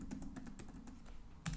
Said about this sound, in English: I can type those in.